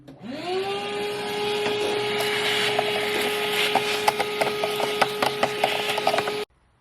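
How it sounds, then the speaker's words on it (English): A shop vacuum sucking debris out of a Nissan Altima's air box, rising to a steady whining roar with rattling clicks and crackles as bits get pulled in, close and loud, then cutting off abruptly. "we're going to vacuum all that bad girl up"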